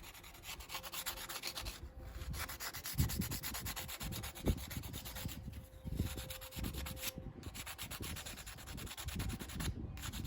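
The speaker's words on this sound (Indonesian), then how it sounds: "Diamplas detail sampai bersih." Sandpaper rubbed back and forth over brass metal surfaces to clean them before soldering, steady close scratchy strokes in a continuous rhythm, fairly quiet with no voices.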